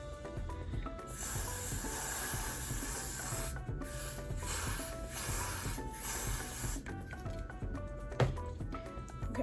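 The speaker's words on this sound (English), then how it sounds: "So let me finish spraying." Repeated hissing sprays from a spray bottle onto a wig behind the ear, several quick bursts in a row, close to the microphone over faint background music.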